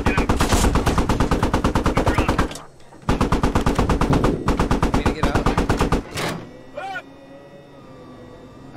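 Machine gun fire in the military shooter game Squad, long loud rapid bursts of rhythmic shots separated by brief pauses, close and dominant, with a short voice fragment near the end.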